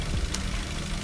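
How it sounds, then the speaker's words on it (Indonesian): A 2011 Toyota Avanza Type S engine idling, a steady low rumble with an even, smooth tone and no added rattles or knocks, held close and continuous for about a second. "ini kita mereview dalam keadaan mesin yang menyala"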